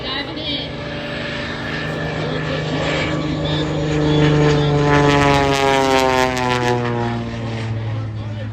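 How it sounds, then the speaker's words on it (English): A red biplane dives at the Oshkosh airshow, its propeller engine droning loudly with a rising and falling pitch sweep as it passes, with people talking in the background. "Look at that big, beautiful red biplane diving in."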